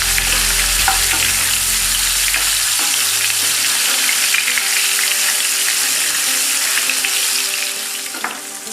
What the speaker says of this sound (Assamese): কিন্তু মই অকণমান ইয়াতে ভাজি লৈছোঁ কালাৰটো ভাল দেখিবৰ কাৰণে